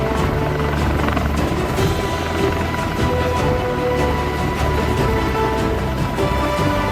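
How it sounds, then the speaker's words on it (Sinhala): MI-24 military helicopters flying overhead to give air cover to a naval flotilla at sea, a loud, continuous rotor thudding and turbine roar, close and steady with no voices. "MI-24 හෙලිකොප්ටර් යානා නාවික බලයනියට ඉහළින් ගුවන් ආවරණය"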